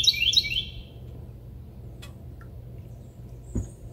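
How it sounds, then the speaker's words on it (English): Birds chirp outdoors in a garden: a quick burst of bright high tweets at the start, then a quiet low background hum with a couple of faint distant calls. "Come outside, make some tea, and listen to the birds."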